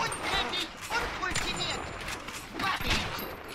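Gunfire from the video game Bioshock Remastered, several sharp shots spaced through a busy, loud game soundscape, with no clear talk.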